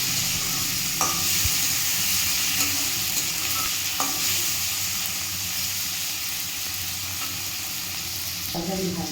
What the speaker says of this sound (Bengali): টমেটোটা দিয়ে ভালো করে নেড়ে চেড়ে নেওয়া হচ্ছে